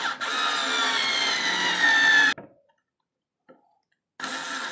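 A Daewoo 3.6-volt lithium cordless screwdriver drives a non-wood screw into semi-hard wood, giving a sustained whirring burst of about two seconds, a pause of silence, then a second burst starting up.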